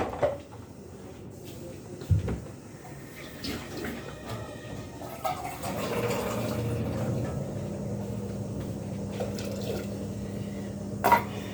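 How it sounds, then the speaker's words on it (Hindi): A couple of knocks of kitchenware, then water pours steadily into a pot for several seconds, with a clank near the end. "तो थोड़ा सा पानी भी डाल देता हूँ।"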